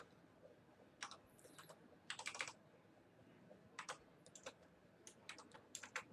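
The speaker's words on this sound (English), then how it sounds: "I'm just typing" Someone types on a computer keyboard in short, separate flurries of crisp clicks with quiet pauses in between, near and fairly soft against a faint background hiss.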